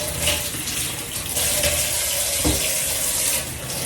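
Leaves washed by hand under a running kitchen tap, a steady close rush of water with shifting splashes as the leaves are moved in the stream, with no talking.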